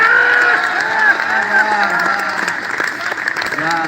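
Sustained applause from a large crowd at an open-air Hindi poetry gathering on a school ground, clapping steady and dense throughout with some cheering mixed in.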